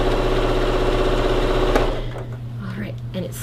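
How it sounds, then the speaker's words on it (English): A sewing machine stitches an infinity scarf with a steady close mechanical whir, then stops partway through, leaving quieter handling sounds. "And now we're just going to sew this together."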